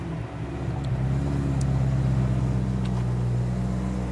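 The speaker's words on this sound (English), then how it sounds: "Can you start and rev a bit of engine" A BMW engine hums steadily at low pitch, rising slightly in intensity mid-way as it is revved, heard close with no talking.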